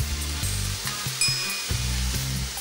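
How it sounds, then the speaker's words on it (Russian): Onion frying in oil in a heated pan, a steady close sizzle with occasional stirring clinks and scrapes, no voices. "Обжариваю лук до прозрачности."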